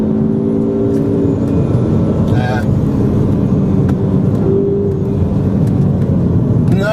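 A 2013 Ford Focus ST engine revs hard toward the rev limiter during a 0-60 acceleration run, giving a loud, steady droning roar that fills the whole stretch, with road and wheel noise underneath.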